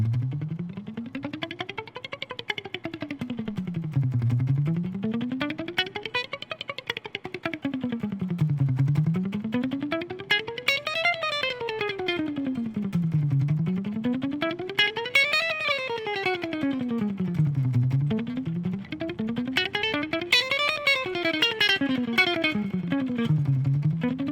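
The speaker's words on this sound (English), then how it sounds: "I'm playing with a pretty clean tone, and I'm using just a little bit of reverb" Electric guitar played with a clean tone and light reverb, sweeping arpeggios rising and falling in repeating waves, steady and clear with no voices.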